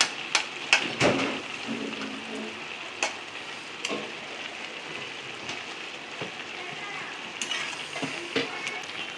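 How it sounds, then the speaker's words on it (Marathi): Khoa being stirred into bottle gourd halwa in a pan, a steady soft sizzle with scraping stir strokes and a few sharper clicks of the spoon, close and continuous with no talking. "आता खवा टाकून चांगला हलवून घेते"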